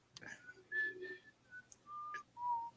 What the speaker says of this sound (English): So we just whistling now.